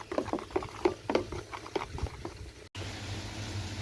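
Runny fluke treatment paste, stirred up in a bucket, is poured into a garden pond: soft, uneven splashing and bubbling patter for a few seconds, then it stops abruptly and is followed by steady, quiet water hiss.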